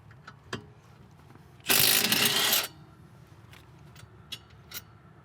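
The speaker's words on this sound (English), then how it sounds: "we're going to take loose these should be 14mm headed bolts for the brake caliper bracket" A ratchet loosens a 14mm brake caliper bracket bolt during a rear wheel hub bearing replacement on a Subaru BRZ: one loud, close burst of rapid clicking lasting about a second, then scattered faint tool taps.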